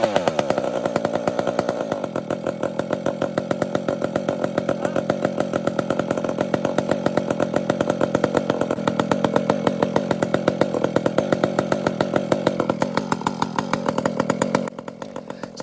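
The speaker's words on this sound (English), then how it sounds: "this saw has been such a joy to run" A chainsaw with a stock long-tooth EXL chain runs continuously and loud at close range, its engine buzz holding steady before dropping off near the end, with no talk.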